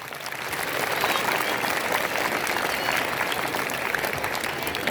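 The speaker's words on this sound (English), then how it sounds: "Please clap for them." A crowd claps steadily and fairly loudly at a school Teachers' Day event, sustained applause filling the whole stretch without pause.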